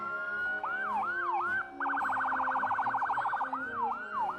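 Loud wailing fire truck siren in a festival parade, cycling between slow sweeps and a rapid yelp pattern, close by and unbroken.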